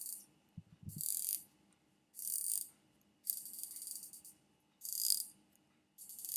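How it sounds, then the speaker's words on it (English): Rotating bezel on a Viqueria Trecento watch being turned, producing five short bursts of crisp, springy ratcheting clicks, close and quiet, separated by brief silences. "That is a very easy to turn and springy sounding bezel."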